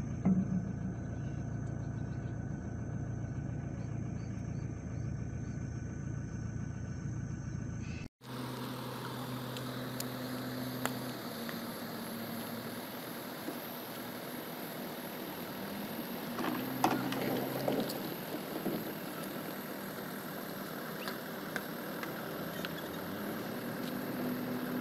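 A river ferry barge on the Solimões river runs its engine. A low, steady drone rises after an abrupt cut partway through and continues, droning and vibrating, to the end, with no talk over it.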